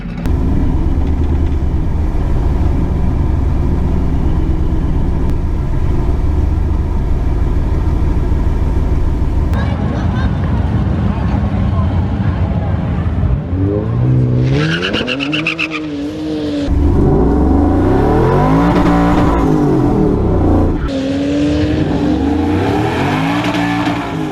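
A drag racing truck on its first pass of the year does a loud, close burnout, with a sustained roaring engine and tire squeal, then rising and falling revs as the engine winds up and shifts.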